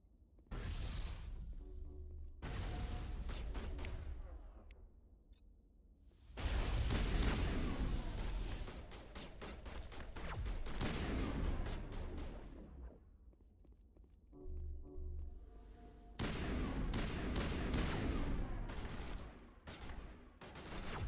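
Gunfire in the video game Mass Effect comes as long bursts of rapid automatic fire and booming shots, separated by short pauses with footsteps and thuds, loud and continuous across the stretch.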